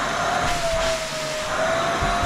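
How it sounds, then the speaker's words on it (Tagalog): A vacuum cleaner runs indoors with a steady, loud whine and a constant hum. Brief low thumps break in now and then as it works. "Magba-vacuum."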